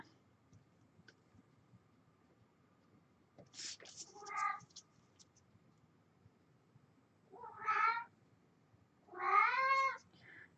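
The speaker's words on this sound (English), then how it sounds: "hang around because my cat won't be quiet." A housecat meows repeatedly indoors, three or four rising, tonal cries spaced several seconds apart, fairly close and clear against a quiet room.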